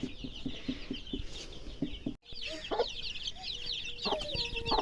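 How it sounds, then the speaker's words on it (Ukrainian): Chickens cluck and chatter close by while running and pecking at corn on a rural farmyard, with soft scratching taps and chirpy bird calls continuing around them. "Дивіться, як їдять курочки, дивіться."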